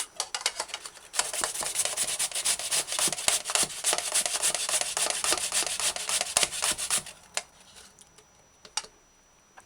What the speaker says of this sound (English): you could use the second or third finest holes on a grater and shred the pumpkin to puree